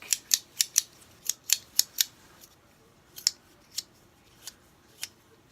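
The two halves of a Sector 5 fidget spinner are twisted against each other, giving crisp, close clicks: a quick run of about eight, then slower, scattered single clicks in a quiet room.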